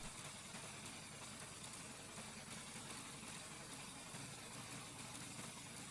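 A vintage Jacobs R755-9 radial aircraft engine idles on its first start, giving a steady, continuous low rumble with even firing pulses that holds at a constant level throughout, fairly quiet and with no voices.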